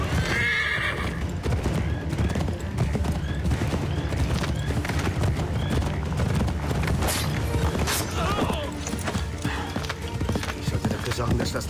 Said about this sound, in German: Ich brauche ein frisches Pferd, das hier zickt nur rum.